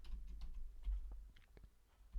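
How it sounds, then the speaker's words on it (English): Faint typing on a computer keyboard, a few soft scattered key clicks in an uneven rhythm beneath a low background hum, brief and quiet. "I hope it doesn't click up the sound of the keyboard though."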